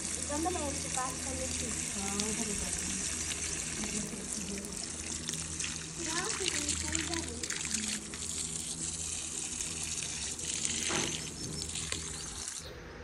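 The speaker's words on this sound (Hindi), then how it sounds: "माशाल्लाह पूरे पौधों को इतनी पानी लगाया ना, देखें।" Water poured onto garden plants in a village yard, a continuous close trickling and gushing that runs for several seconds, with voices faintly in the background.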